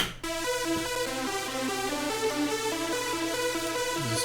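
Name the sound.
synth melody with MIDI note variation, dark electro track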